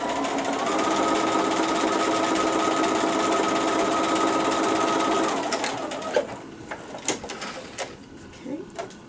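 A sewing machine stitches a quarter-inch seam on a fabric pillow cover, running in a steady, continuous mechanical buzz for about five seconds before stopping, followed by a few faint clicks and handling noises.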